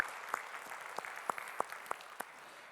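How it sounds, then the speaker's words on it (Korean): In a Korean Sunday church service, the congregation offers applause of praise: a handful of sparse, distinct claps spaced irregularly, faint and somewhat distant in a quiet hall. "우리 찬양을 받으실 주님께 영광의 박수 올리겠습니다."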